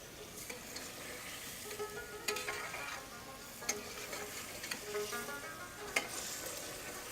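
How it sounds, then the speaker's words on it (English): Lamb chops fry over medium heat in a pan, giving a steady soft sizzle with a few sharp ticks and crackles scattered through. No one talks. "will have to cook the lamb chops on medium heat"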